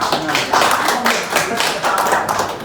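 An audience applauds a speaker at a public talk, a loud, steady patter of clapping with voices mixed in.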